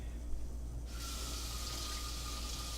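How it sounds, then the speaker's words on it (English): Tap water runs steadily from a kitchen faucet as a knife is rinsed under it, a broad hiss that starts abruptly about a second in and continues evenly, close by, with no talking. "Rinse my knife off real good."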